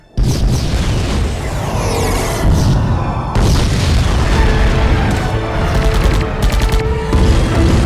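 Sci-fi movie sound effect of a torpedo striking a ship, a loud rumbling explosion with sustained crackling blasts and debris bursts that continue steadily for several seconds, with no speech over it.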